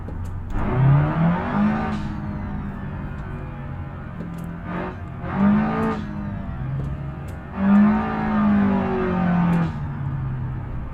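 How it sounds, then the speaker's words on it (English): A loud Chevy Silverado truck engine in BeamNG revs repeatedly in bursts, its exhaust roaring and growling up and down in pitch with a steady rumble between revs. "audio was all kinds of messed up because this exhaust was so loud"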